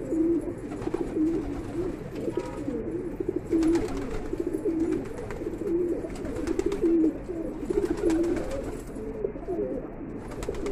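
Pigeons coo near the microphone after drinking water, repeated soft throaty rolling calls about every second, close and clear over a quiet background.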